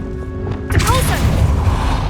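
A Depulso spell fires in a Harry Potter video game, a sudden whooshing burst and thud that lands after a short lull and rings out over busy game ambience.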